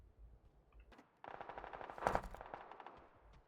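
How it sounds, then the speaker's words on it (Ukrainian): A rapid burst of automatic gunfire from the video game PUBG rattles out after a quieter moment, sustained for a couple of seconds with no talking. "ще хтось стріляє поряд"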